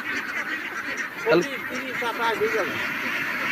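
Ducks on a farm in the open wetland of a haor honk and quack in an overlapping, fairly close chorus, with faint voices in the background.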